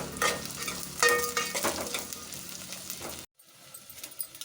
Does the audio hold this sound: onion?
yes